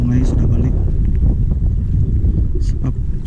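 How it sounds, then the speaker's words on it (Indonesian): Strong wind buffets the microphone while kayak fishing at a river mouth, a loud, steady low rumble running throughout with faint water movement underneath. "Sebab angin tambah kuat tadi"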